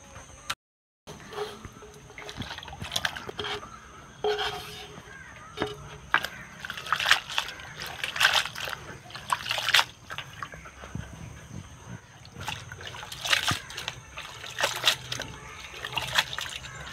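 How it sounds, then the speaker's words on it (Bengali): Dheki shak fern greens are washed by hand in water in a village kitchen. The water splashes and trickles steadily and close by, with soft sloshing throughout. "এখন আমি পরিষ্কার করে ধুয়ে নিব।"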